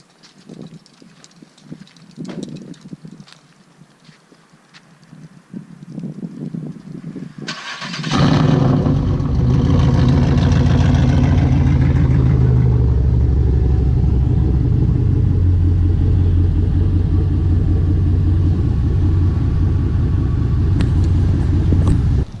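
A Pontiac Grand Prix GXP engine cranks and catches at about seven seconds, then settles into a loud, steady idle rumble that fills the rest of the clip, close by, after a quieter stretch with faint background noise.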